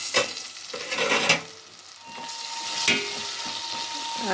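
Ginger garlic paste fries in oil in a pan for pulao, a steady soft sizzle with a few scraping stirs and clinks, close by and alone.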